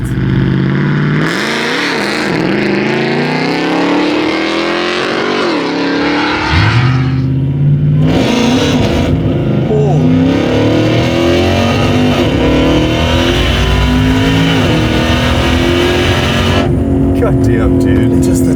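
A 1,300-horsepower custom widebody Dodge TRX revving hard as its tires struggle for grip, a loud, rising and falling engine roar with shifting pitch sweeps heard from inside, with people talking over it.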